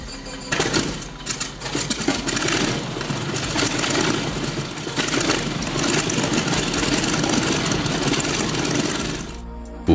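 A car fitted with a V12 aircraft engine runs loudly nearby, a rough, rapidly pulsing mechanical clatter and rumble that stays strong for nearly ten seconds before stopping abruptly.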